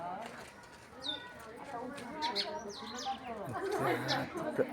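Sparrows chirp and twitter close by, a busy scatter of short calls, with people talking quietly underneath.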